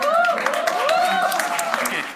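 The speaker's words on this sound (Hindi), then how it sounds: "एक बार जोरदार तालियों के साथ।" Audience at a Hindi stand-up comedy show with crowd interaction breaks into sustained clapping for about two seconds, with cheering or whooping voices riding on top.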